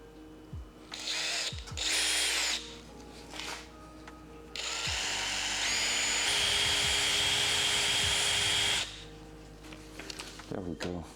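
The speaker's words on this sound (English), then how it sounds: "let me drill a hole through that one too" A power drill bores a hole through a rubber grommet in a car engine bay during cable management, with short whirring bursts and then a longer sustained grinding run, close up and loud.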